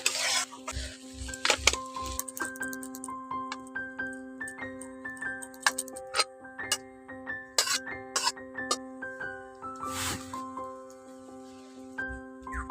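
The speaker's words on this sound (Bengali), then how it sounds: "হাত গরম মশলা ভাজা দিয়ে ভালো করে মিশিয়ে নিচ্ছি" Okra and egg curry mixed with roasted garam masala is stirred in a pan, a spoon scraping and clinking against the metal in repeated strokes over a soft sizzle, close and alone.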